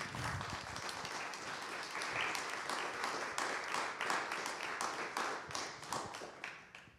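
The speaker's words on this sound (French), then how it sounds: "on vous applaudit." An audience applauding at a talk, a dense steady patter of many hands clapping throughout, fairly faint and tapering off at the end.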